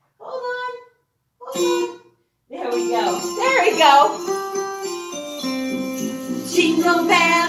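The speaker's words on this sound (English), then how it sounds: "Hit your jingle bells." Jingle bells shaken in short bursts at a children's Christmas circle time, two brief jingles followed by a sustained, bright rattle that blends with singing voices.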